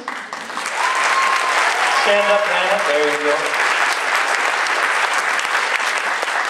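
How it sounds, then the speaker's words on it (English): An audience at a beginning band concert applauds a young performer with steady, dense clapping throughout, while someone speaks briefly near the start and a few brief tones sound. "One more round of applause"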